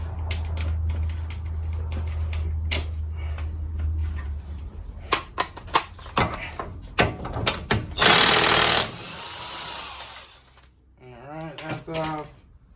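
Close metallic clanks and clicks of tools and a socket on a 1997 Honda Civic axle nut, a long air-tool burst in the middle and a rumbling start, with occasional quiet talk.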